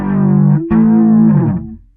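Ibanez RB760 bass played through a heavily distorted synth patch with compression and chorus, two loud buzzy staccato-like tones, the second sustaining and sliding before fading out.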